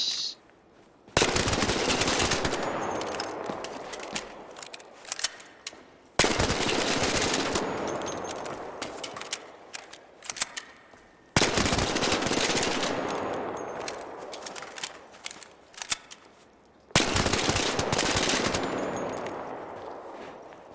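A full-auto gun fitted with a muzzle brake fires four long sustained bursts, each a loud roaring rattle of rapid shots lasting several seconds, separated by brief pauses.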